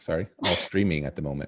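A single sharp sneeze bursts out during casual conversation at a 1980s TV trivia night, with people talking just before and after it.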